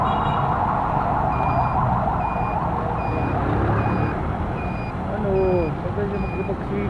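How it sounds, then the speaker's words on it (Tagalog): An ambulance siren sounds in a congested one-way street near an SM mall in the Philippines, a steady repeating run of high electronic tones over a bed of traffic rumble. "Ingay no, ambulansya."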